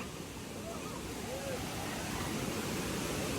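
Rushing water at a Bhudargad waterfall keeps up a constant, full-bodied roar, with faint voices partly buried beneath the torrent.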